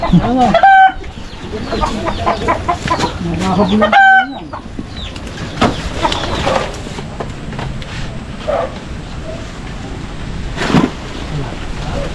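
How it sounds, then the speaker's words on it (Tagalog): A chicken clucks in a string of short calls near the start, then gives sparser, fainter clucks over a rain-like hiss of background noise. "Malabas yung manok."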